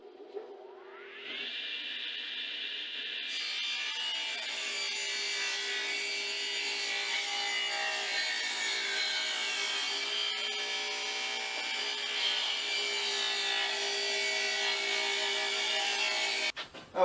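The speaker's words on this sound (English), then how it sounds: "next we're going to rip this scrap 2x4 to 1 3/4 inches" A table saw rips a scrap 2x4 lengthwise: the blade spins up with a rising whine, then bites into the wood for a long, steady, loud buzzing cut, close up and unbroken, ending abruptly as the board clears.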